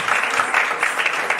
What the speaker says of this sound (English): Please continue clapping for amazing artists like these.